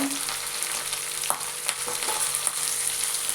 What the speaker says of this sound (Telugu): అన్నీ బాగా వేయించుకోవాలి దోరలుగా